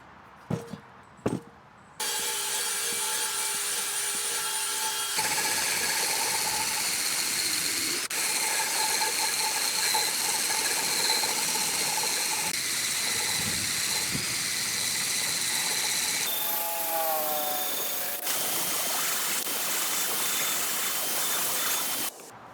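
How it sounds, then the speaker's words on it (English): A rusty junkyard cast iron pan is stripped of rust and old seasoning with a steady, hissing abrasive grind that runs almost continuously and loud, with brief pitch shifts and a short clatter at the start. "All in all, stripping this thing down probably took me maybe an hour."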